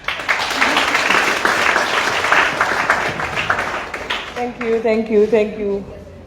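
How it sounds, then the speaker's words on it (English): An audience at a girls' mentorship forum claps in a close, dense burst that thins out, and a speaker's voice starts up as the clapping fades. "Please give her a round of applause."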